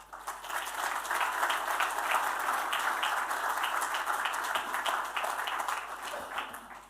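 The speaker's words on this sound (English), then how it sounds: "Everyone, give him a round of applause." An audience at a lecture on the future of Saudi Arabia gives a round of applause to welcome a speaker to the stage, steady dense clapping that holds at an even level throughout.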